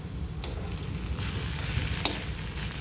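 Curry leaves are stirred into a bitter gourd and onion fry in a pan, giving a steady close sizzle with soft scraping stir strokes and a few sharp crackles.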